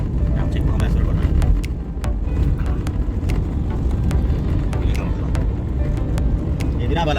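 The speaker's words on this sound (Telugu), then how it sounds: "ఎదిరా బాలరాజు, ఒక ఫ్లైట్ రారా" An airplane flies overhead in Kuwait, a steady, loud, low roar that holds throughout with a few light clicks and nearby voices talking over it.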